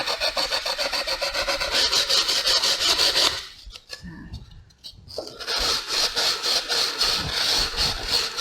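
Sandpaper rubs back and forth along the sharp 45-degree edges of a wooden workpiece in a woodcraft class, a loud rhythmic scratchy rasp close by that pauses briefly midway before resuming.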